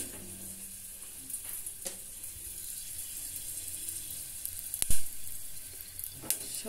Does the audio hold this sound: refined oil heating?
yes